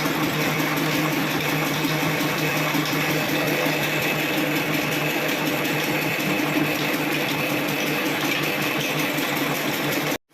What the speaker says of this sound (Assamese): কিন্তু ধোঁৱা বিলকুল নাই ইঞ্জিনৰ